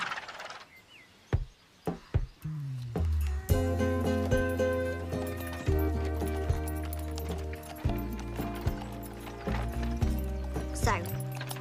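Horse hooves clip-clopping in an uneven rhythm, sharp clatters at first, then steadier beats mixed with music and a voice.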